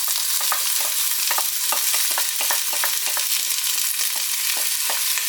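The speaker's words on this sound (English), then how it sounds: "So we get the onions in and we fry that down a little bit." Onions frying in hot oil with curry leaves for a chicken and potato curry, a steady bright sizzle with frequent small pops and crackles throughout, close and continuous with no talking.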